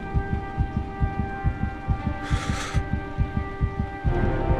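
Rapid heartbeat in the video game Heavy Rain, a steady run of deep, soft thumps in quick rhythm over a low electronic hum, with a brief hissy swell partway through.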